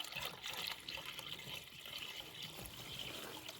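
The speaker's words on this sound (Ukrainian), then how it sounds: "Додаємо ще простої води." Plain water pours steadily into a 12-litre garden sprayer tank, a continuous close splashing and gurgling fill with no voices.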